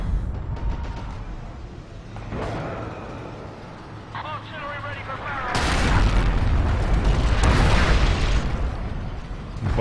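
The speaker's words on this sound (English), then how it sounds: "Bombarding the flag hangar." Bombardment explosions rumble across a battlefield in the WWII shooter Forgotten Hope 2 on the Sidi Rezegh map, with scattered booms early on before a heavier, sustained barrage of loud blasts erupts partway through and keeps going.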